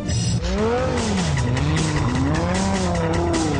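A Lamborghini Gallardo LP560-4 on an icy snow track, its engine note rising and falling loudly and steadily close by as it slides, with a tonal tyre-squeal-like whine throughout.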